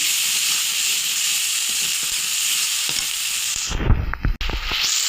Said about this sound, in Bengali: এখন একটু আদা বাটা দেবো, রসুন বাটা দেবো। ভালো করে একটু নাড়াচাড়া করে একটু ভেজে নেব।